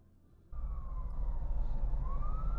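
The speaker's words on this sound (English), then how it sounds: "Uh-oh, I hear sirens." An emergency vehicle siren wails in over low rumbling traffic, its tone sliding down and then climbing again, moderately loud.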